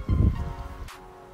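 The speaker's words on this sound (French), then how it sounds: "Alors chez nous il y a un peu de vent," Wind gusts outdoors at a home swimming pool under renovation, with a loud rustling rush at the start that fades to a softer breeze.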